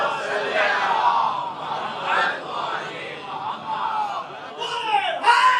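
A large crowd at a Shia religious gathering (Ashra-e-Arbaeen majlis) chants a devotional slogan together in response to a preacher, a dense swell of many voices filling the hall, rising again near the end.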